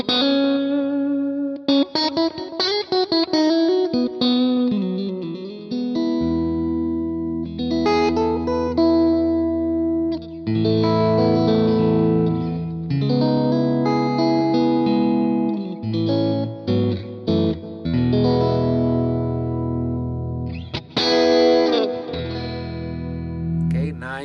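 Electric guitar played through the Worship Tutorials AC30 clean preset, a bright, jangly amp tone with chorus and echo, ringing chords and picked single notes in phrases over about twenty-four seconds, with no talk.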